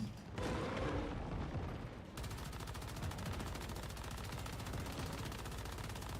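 Cannon fire in the video game Once Human during a hard-server Prime War world boss fight: dense, rapid rattling bursts of gunfire and heavy booms run continuously and loudly, with a sharp shift in texture partway through.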